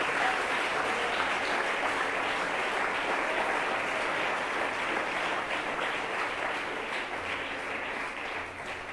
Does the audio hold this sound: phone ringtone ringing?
no